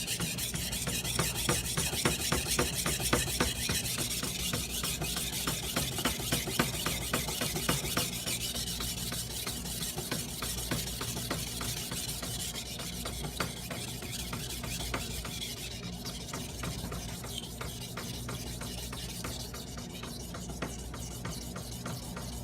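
A knife blade is stroked steadily across a sharpening stone, a close, dry rasping scrape repeated in a quick even rhythm, heel first, alone without any voices.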